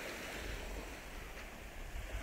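Sea waves at Talai beach in the Guraici islands wash softly and steadily with some wind noise, faint and without voices.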